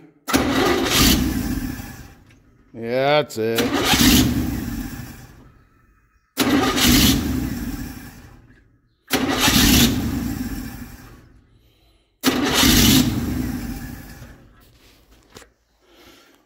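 A 283 V8 engine in a parts truck is cranked over in four separate bursts, each a few seconds long, catching briefly before dying. A voice speaks briefly between attempts.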